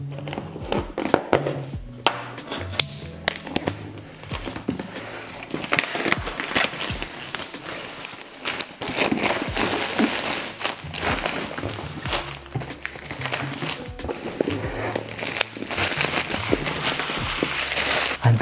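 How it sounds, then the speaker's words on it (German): Protective plastic film peeled off an XGIMI Halo portable projector, a continuous crinkling and crackling with scattered sharp crunches and taps close by, alone with a low hum underneath. "Die Folie muss noch entfernt werden."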